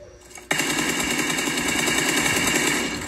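Sustained automatic gunfire in PUBG Mobile on an iPad Pro, a loud continuous rattle of rapid shots that bursts in after a brief quiet start and holds steady at close range to the end.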